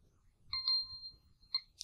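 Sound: clock ringing in the video game Silent Hill 2

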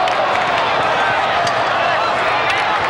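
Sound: football crowd cheering at Syracuse vs. Cortland game

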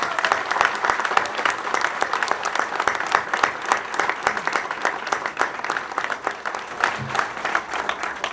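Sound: audience applause

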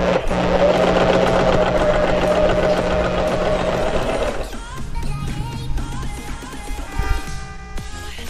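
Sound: portable sewing machine stitching pleats with ruffle foot

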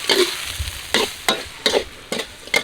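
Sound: stir-frying catfish with vegetables and sauce in a wok

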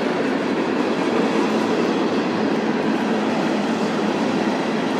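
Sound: long train roaring by

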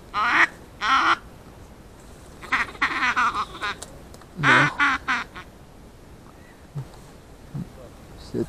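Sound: ducks flying and quacking

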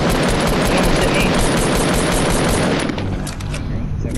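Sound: gunfire

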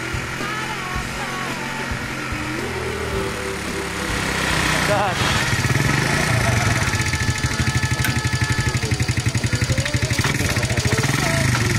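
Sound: modified three-wheeled motorcycle engine running

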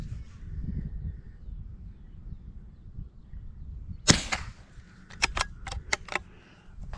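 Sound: rifle shot from Brno Model 2-E

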